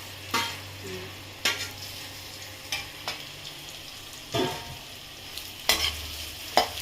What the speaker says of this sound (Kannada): ಉಪ್ಪು ಅರಿಶಿನ ಬೆಳೆದಿರೋಂಥದ್ದು ಹಾಗಲಕಾಯಿ ಎಣ್ಣೆಗೆ ಹಾಕ್ತಾ ಇದ್ದೀನಿ